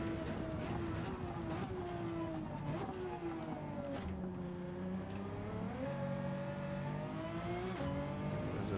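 A Pagani Zonda R 2009 race car in Gran Turismo 7 at Sardegna Road A, its engine loud and close, rising through revs with gear changes, brief lifts off throttle and a faint tire squeal.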